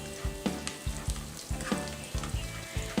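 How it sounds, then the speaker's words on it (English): Onions frying in ghee until light golden brown for South Indian biryani: steady close sizzle with repeated stirring scrapes and taps in an irregular rhythm, fairly quiet, no talk. "We'll fry this until the onions turn a light golden brown"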